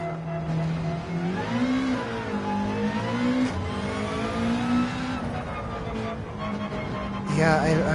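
Subaru WRX Gr.3 race car in Gran Turismo 7 at the Nürburgring GP, its engine droning steadily with rising and falling pitch through gear changes, a sharper rev burst near the end, and faint voices underneath.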